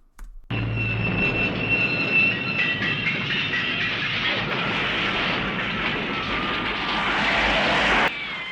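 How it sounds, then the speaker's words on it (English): Train being blown up in a scene from the film Lawrence of Arabia: a sudden loud blast swells into a long, dense roar of rumble and debris that holds for several seconds and then cuts off sharply, with no voices. "we're blowing up a train right now"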